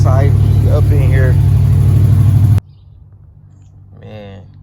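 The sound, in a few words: Chevrolet Impala car engine running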